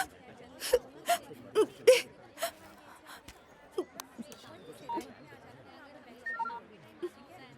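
A few quick telephone keypad beeps sound in a row, followed by soft whimpering and moaning from a nearby voice.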